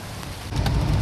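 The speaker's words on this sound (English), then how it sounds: "we can see the water flowing" Rain falls and floodwater flows along a street during May flooding in Billerica, a dense, close wash of noise that swells louder halfway through.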